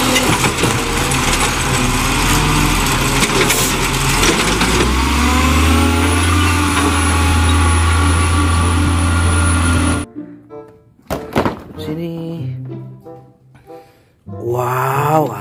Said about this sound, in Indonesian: Wow, ada mobil kebersihan teman-teman.